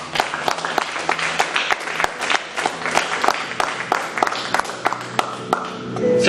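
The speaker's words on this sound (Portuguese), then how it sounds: "Quantos podem aplaudir o Senhor por isso?" Congregation at a church service applauding together, a dense wash of many hands clapping with crisp individual claps standing out, steady and fairly loud throughout with a faint murmur of voices beneath.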